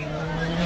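A fast rally car during the Caminos del Inca race roars past with a loud, sustained engine drone in a brief, unbroken burst, with a voice faintly underneath.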